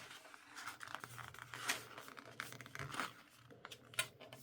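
Thick paper being torn and crumpled by hand while making a pencil pot, producing irregular close rustles, crinkles and tearing scrapes at a quiet level, with no speech.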